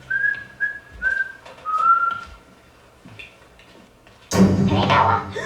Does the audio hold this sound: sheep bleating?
no